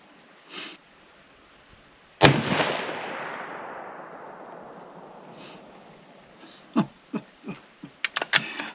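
A 6.5 Creedmoor Savage 110 Desert Tactical rifle fires one loud, sharp shot at an outdoor range, and the report rings out and fades slowly over several seconds. Faint thuds and clicks follow afterward, likely from handling the rifle.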